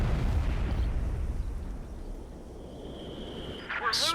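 Artillery barrage in Company of Heroes 2 rumbles as a heavy, continuous low roar of distant explosions, then swells again with a sharp burst at the end, with commentators talking over it.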